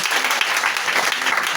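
A church congregation applauds and cheers for Jesus at a second-anniversary service, steady loud clapping that fills the hall without a break.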